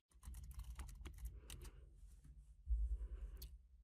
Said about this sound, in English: find the Yoast SEO plugin by typing Yoast SEO into the search bar right here